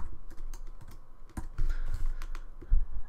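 Rapid typing of code on a computer keyboard, a quick run of close, crisp key clicks with irregular rhythm and a few heavier keystrokes.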